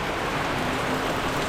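Heavy rain pours down on and around a small hut in a dense, unbroken hiss, loud and even throughout with no voices.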